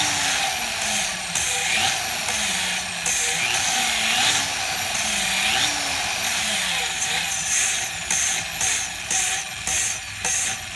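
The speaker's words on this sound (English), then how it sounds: "Now I reverse my drill." A small electric drill running in reverse for valve seat cleaning whirs in short bursts, its pitch rising and falling as it starts and stops, with faint mechanical clicking.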